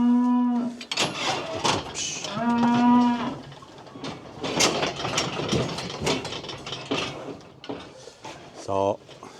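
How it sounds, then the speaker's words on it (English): Heifers mooing loudly on a farm, two long drawn-out calls a couple of seconds apart and a short low call near the end, with clatter and faint engine noise between them. "this is the first of the heifers up here"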